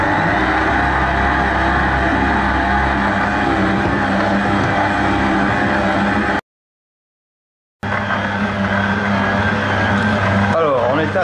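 A stand mixer kneads country bread dough at speed 1, its motor a steady, loud, continuous drone with a brief cut partway through.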